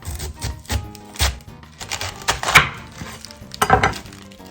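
A knife cutting a cabbage into wedges with the core left on, giving several distinct chopping thuds against a board with short gaps between cuts.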